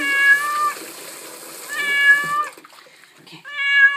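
A cat being bathed lets out three loud, drawn-out meows, separated by short pauses, with faint trickling water underneath.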